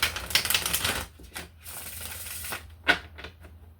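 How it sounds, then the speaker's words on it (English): Tarot cards being shuffled: a quick crackling riffle at the start, then a few short papery flicks and snaps, close and fairly loud. "A little bit of a difficult shuffle there."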